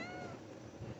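A cat gives a faint, drawn-out meow indoors during kayak fitting work, the tonal call sitting quietly over a low background hum.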